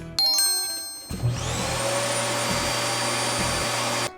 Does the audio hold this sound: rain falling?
no